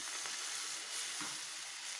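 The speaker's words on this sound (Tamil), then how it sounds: "கெட்டியான தேங்காய் பால் ஒரு தேங்காயில் கொஞ்சமாக தண்ணி ஊற்றி எடுத்த கெட்டியான தேங்காய் பால்" Thick coconut milk, pressed from one coconut with a little water, pours into a pan of cooking Kerala mango pachadi, giving a steady soft sizzle and gentle bubbling close up, with no talk.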